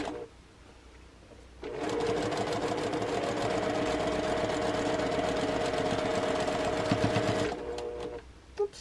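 A sewing machine stitching a quarter-inch quilt block seam, a close, steady mechanical whir running about six seconds with a rapid stitching rhythm, starting and stopping abruptly, with no talking.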